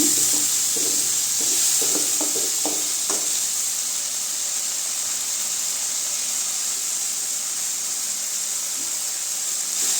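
Tomatoes soften in a pan for radish kulambu, giving a steady soft sizzle and hiss with a few light stirring taps early on, close and even throughout.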